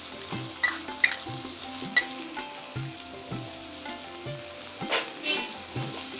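Onion with cumin seeds fries in hot oil, giving a steady, soft sizzle, while a spoon scrapes and clinks against the pan every second or so, close up and with no talking.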